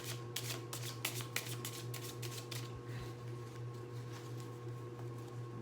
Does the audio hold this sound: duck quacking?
no